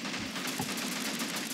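Machine gun fire in the battlefield game Men of War: Assault Squad 2, a steady wash of rapid shots running through the whole moment, with no voices over it.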